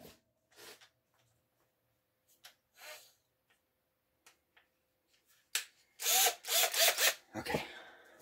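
A power drill opening a locked metal box: after scattered clicks and handling noises, loud bursts of drilling start up close and run in short repeated spurts, with no talk.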